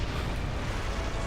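Video game explosions as a dense, continuous roaring blast rumble, loud and heavy in the low end, filling the whole brief moment without a break.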